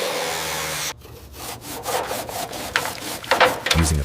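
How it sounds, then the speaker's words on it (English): Rough, rhythmic scraping of a stiff wire brush against rusty metal on a Lamborghini, repeated strokes growing louder, close up with no voices. "With a wire brush and grip, Alex manually scrapes away the surface rust"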